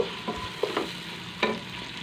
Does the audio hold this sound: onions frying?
yes